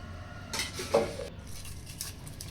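Palak paneer pulao being stirred in a pot with a metal spoon, giving a few faint scraping clinks and knocks against the pot with a quiet kitchen hum underneath.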